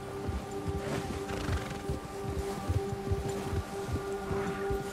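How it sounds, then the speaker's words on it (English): Horse hooves clop along with occasional neighing in the Red Dead Redemption 2 video game, a steady moderate rhythm of footfalls over rustling outdoor ambience. "Quando o predador está por perto, seu cavalo fica agitado."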